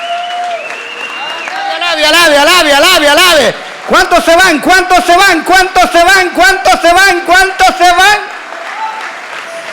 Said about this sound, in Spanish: Dele palmas al Rey, alabe su nombre.